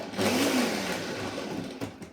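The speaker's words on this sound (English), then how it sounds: "And I'm going to stick it in the blender" A kitchen blender whirs through frozen berries and vanilla ice cream, a loud close motor drone starting abruptly, holding steady with slight pitch changes as it churns, alone without voices.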